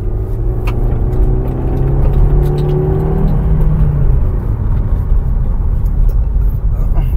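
A 2025 Maruti Suzuki Brezza engine rumbles and builds under acceleration during a test drive, a steady low drone with a rising whir that stays loud across the stretch.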